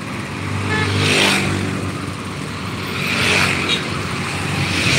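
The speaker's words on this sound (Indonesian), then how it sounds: "Ini arus lalu lalang kendaraan yang ada di seputaran Dorobelo." Road traffic streams past around Dorobelo, cars and motorbikes swelling as they pass close by and fading, with a continuous roadway rumble and no talk.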